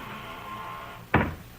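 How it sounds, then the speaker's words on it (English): A door being shut as a radio drama sound effect, a single sharp, close thud of the door closing after a stretch of quiet room tone. "Shut that door."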